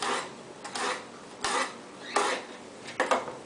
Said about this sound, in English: let's julienne it by cutting nice thin strips.